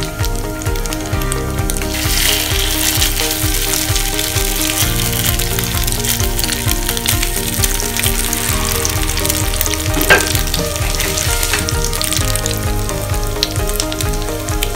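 Potato-coated bread toast fries in a pan with a loud, continuous, crackling sizzle that holds steady throughout, close and with no voices.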